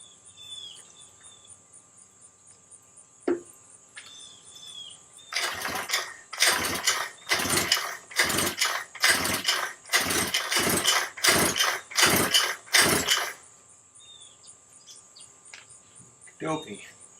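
A Losi 5ive T 1/5 scale RC car gas engine during break-in, giving about a dozen rapid, loud bursts over roughly eight seconds, with a quiet background before and after.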